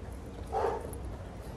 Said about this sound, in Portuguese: que susto, cachorro.